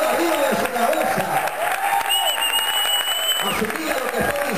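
Church congregation clapping for the Lord overhead, a dense continuous patter of hands under a loud voice talking and calling out over it.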